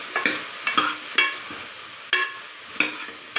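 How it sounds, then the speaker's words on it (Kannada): A spoon or spatula scrapes and stirs sambar powder, chilli powder, turmeric and garam masala in a pan for village-style toor dal sambar, with a faint sizzle beneath. Several sharp scraping strokes come at irregular intervals, close and clear, with no talk. "ಸ್ವಲ್ಪ ಗರಂ ಮಸಾಲ ಹಾಕ್ತಾಯಿದ್ದೀನಿ. ಈಗ ಚೆನ್ನಾಗಿ ಮಿಕ್ಸ್ ಮಾಡೋಣ."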